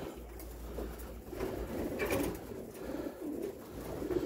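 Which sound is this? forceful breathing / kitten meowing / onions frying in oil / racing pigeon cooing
racing pigeon cooing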